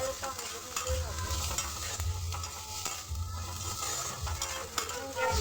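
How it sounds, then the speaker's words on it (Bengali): Onions frying on high flame in a pan until lightly browned, with steady close sizzling and repeated scraping stirs of a spoon throughout. "পেঁয়াজটা হালকা ব্রাউন করে ভাজবো"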